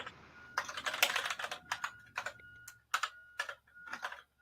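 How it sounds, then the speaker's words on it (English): Keys clatter on a computer keyboard in uneven bursts of quick taps separated by short pauses, close and fairly quiet, with no one speaking. "Why do I keep typing 7?"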